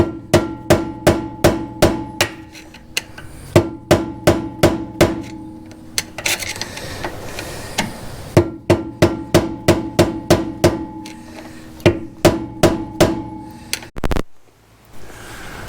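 Repeated hammer blows on the rear brake studs of a Ford Fiesta, sharp metallic strikes in rapid bursts of several hits separated by short pauses, loud and close, ending with a heavier clunk.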